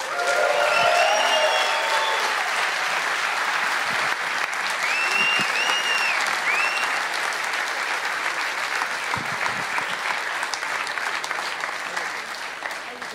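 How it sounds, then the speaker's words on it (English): Audience applause welcoming footballer David Alaba at a FIWC 2015 grand final event, loud sustained clapping from a large crowd with scattered whistles and cheers rising over it, tapering slightly toward the end. "It's a round of applause for David Alaba."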